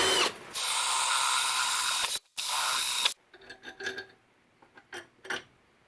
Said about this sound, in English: I'd rather drill out this hole in this tiny little bracket so we can fit this bigger 3/8 bolt